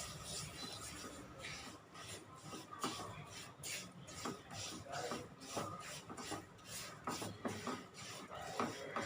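Semolina roasting in ghee is stirred steadily in a pan, a continuous rhythmic scraping and rasping of the spoon against the metal, quiet and close with no voices.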